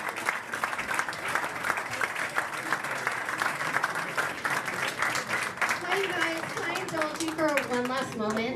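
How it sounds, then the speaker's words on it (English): An audience at a talk on immigration, education and housing breaks into sustained applause, a dense wash of clapping that carries on steadily while voices murmur underneath. "Let's give a warm round of applause."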